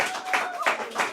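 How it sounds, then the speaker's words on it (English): A small audience at an art and music community event gives a short burst of applause, a few distinct clustered claps close by, with a voice faintly underneath. "a round of applause"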